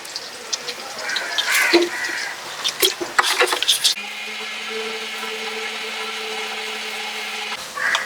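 An electric blender grinds dried red chillies and white mustard seeds with a little water into a fine paste, starting with clattering bursts before settling into a steady whirring drone.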